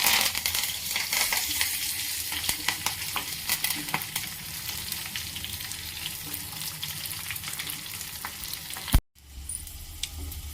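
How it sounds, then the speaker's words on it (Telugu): A tempering of dried red chillies, garlic and curry leaves frying in hot oil, a loud continuous sizzle with stirring clatter, ending abruptly in a sharp cut near the end. "ఇలా మనం తాలింపు పెట్టుకున్నాం కదా"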